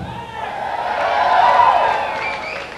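A concert audience at a show cheers and whoops, a steady crowd roar that swells to a peak midway and then eases off, with no clear clapping.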